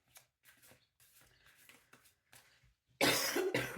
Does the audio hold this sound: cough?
yes